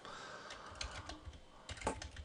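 Faint, scattered keystrokes on a computer keyboard as a name is typed into a Python program, a few soft clicks spread over about two seconds with no one speaking.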